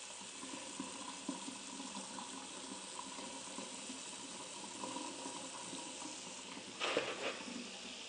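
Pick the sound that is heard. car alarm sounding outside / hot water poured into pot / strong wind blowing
hot water poured into pot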